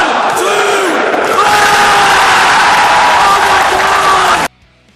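A wrestling arena crowd at a WWE match roars and cheers wildly after a Mustache Mountain win, loud sustained yelling and whooping that cuts off abruptly near the end.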